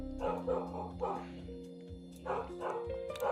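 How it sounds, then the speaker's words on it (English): A dog barks and yips a few times in short bursts, fairly close, with a low hum running underneath and some vocal sounds mixed in. "Dog barking."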